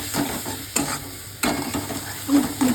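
Ground masala paste roasting in oil in a pan for a Maharashtrian fish curry, loud sizzling broken by several sharp stirring scrapes at irregular intervals, close and without speech.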